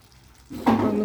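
Aloo gobi curry, potato and cauliflower freshly topped with coriander leaves, gets stirred in the pan; after a quiet half second a close, brief sizzling scrape rises and holds.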